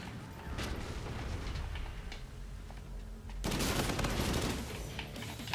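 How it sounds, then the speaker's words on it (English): Sustained automatic fire from a light machine gun in the sci-fi shooter Call of Duty: Infinite Warfare, a dense rattling stream of shots that swells louder partway through, with no talking over it. "The LMG is actually pretty good"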